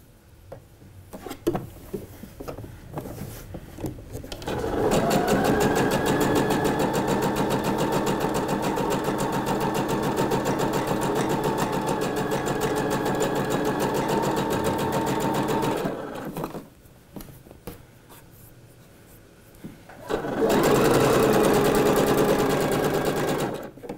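A sewing machine runs a long continuous seam for a second gathering thread on a Kitri dress, starting after a few seconds of quiet, pausing briefly, then whirring again at steady speed.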